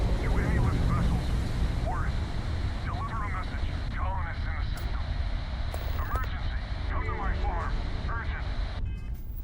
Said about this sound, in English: Switching over to standard engines.